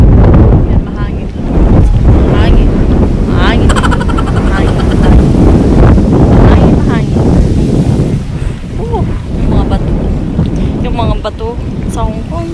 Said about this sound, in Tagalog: Ayan, mahangin.